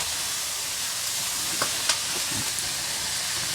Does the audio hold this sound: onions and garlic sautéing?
yes